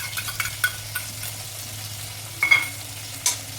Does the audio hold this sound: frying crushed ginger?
yes